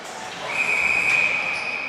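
A referee's whistle sounds during an ice hockey game between Boston Hockey Club and NorthStar Elite, one sustained shrill blast over steady arena crowd noise.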